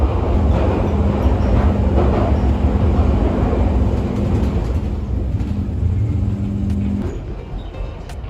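London Underground Piccadilly line train at Arnos Grove station, a steady loud rumble with a low droning hum, easing slightly toward the end as it settles near the platform.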